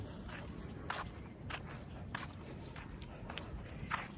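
Footsteps of a person walking outdoors in the afternoon with dogs, soft steps falling at a steady unhurried pace over a constant hiss of crickets and insects, with no talking.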